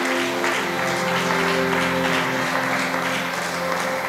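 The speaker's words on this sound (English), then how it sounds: "why don't you give a clap offering unto the Christ?" A church congregation claps together in a steady, dense wash of applause over sustained musical tones, loud and continuous throughout.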